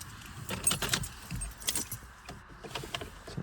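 A Nissan Juke flip key on its ring jangles and clinks near the car, with irregular metallic rattles coming in bursts and short pauses, close and clear.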